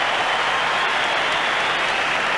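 Crowd at a 1991 Australian football match between the Adelaide Crows and Geelong Cats roars after a goal, a dense, steady wash of cheering and clapping heard as a distant, continuous swell with no break.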